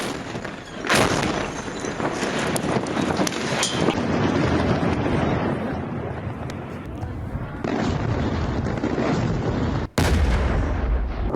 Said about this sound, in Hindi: अल कासिर शहर पर आईडीएफ की तरफ से बम दागे गए